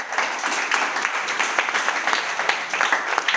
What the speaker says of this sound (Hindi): सर के लिए तालियां हो जाए